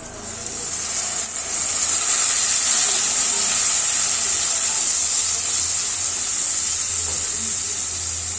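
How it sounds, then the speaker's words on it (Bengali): A paste of tomato and green chilli fries in oil over medium-high flame, a loud, continuous hissing sizzle that swells early and holds steady throughout. "মিডিয়াম টু হাই ফ্লেমে রেখে এটা একটু তেল ছেড়ে আসা পর্যন্ত একটু কষে নেব"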